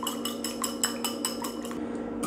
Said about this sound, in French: on va battre les œufs